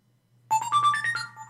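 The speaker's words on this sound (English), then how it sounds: "Ooh, there's my phone." A phone ringtone starts abruptly after a short silence and plays a bright electronic melody of rising, stepped tones. It is close and clear, with no talk over it.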